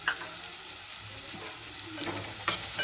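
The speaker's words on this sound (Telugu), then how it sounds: "ఫ్రై చేయాలండి మూడు కలిపి మనకి బ్రౌన్ షేడ్ వచ్చే వరకు" Green chillies and onions frying together in a pan, a steady close sizzle with occasional stirring scrapes and a couple of brief clatters, no voices.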